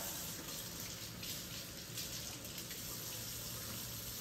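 A sink faucet turned on by hand pours a steady, even stream of running water into the basin, close and continuous with no talking.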